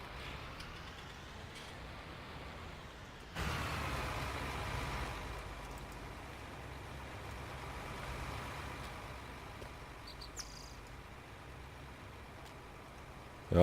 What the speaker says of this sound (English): Let me move the tractor forward here.